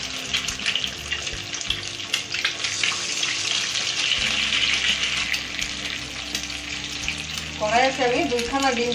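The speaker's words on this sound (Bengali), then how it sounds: "কড়াইতে আমি 2খানা ডিম ভেঙে দিয়েছি" Two eggs crack into hot white oil in a kadai over a gas flame and sizzle loudly and steadily up close, with a brief wavering tone late on.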